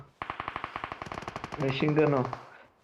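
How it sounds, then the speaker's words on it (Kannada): A machine gun in the mobile battle royale game BGMI fires a rapid, evenly spaced burst of about a dozen close, sharp shots, then a voice speaks briefly as the firing ends. "ಬತ್ತು ನೋಡಿ ಮಿಷಿನ್ ಗನ್ನು"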